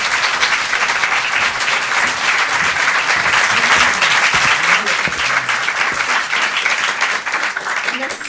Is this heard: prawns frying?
no